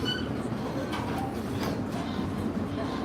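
Steady rumble of a passenger train heard from inside while riding, a continuous low rolling noise with faint rattles and no speech over it.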